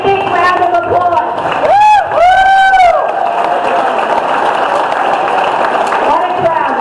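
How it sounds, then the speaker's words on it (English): Crowd at a general meeting breaks into applause and cheering, with loud whoops and shouted voices early on, then settling into a steady near roar of clapping and chatter. "now I want to give you a great big round of applause"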